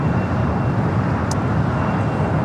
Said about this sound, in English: We do have United Flight 152 heading to Hong Kong, the 787-9 Dreamliner. Next takeoff here on the south side.